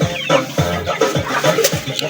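A chicken clucking close by in a series of short, choppy calls, loud and repeated across the whole moment with no talk over it.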